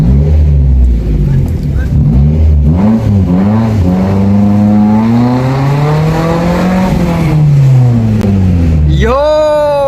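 A modified Maruti Zen with an aftermarket exhaust and muffler revs loudly up close, the engine note rising and falling through repeated pulls, ending in a sharp high rev, with talk audible underneath.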